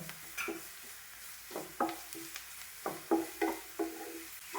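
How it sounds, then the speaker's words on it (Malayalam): Grated coconut frying with onions in a pan for a Kerala soybean masala thoran, heard as a faint sizzle broken by repeated close spatula scrapes and taps in an uneven rhythm, with no voices. "നമ്മുടെ നാളികേരം ഇട്ട് കൊടുത്തു അതും നമുക്കൊന്ന് ഫ്രൈ ചെയ്തെടുക്കാം"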